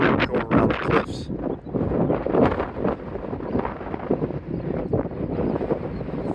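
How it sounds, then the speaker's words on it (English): Strong, gusty wind buffets the microphone on an exposed clifftop in Sagres, Portugal, a continuous loud roar swelling and easing in gusts throughout, with no other sounds standing out. "Very gusty, very windy."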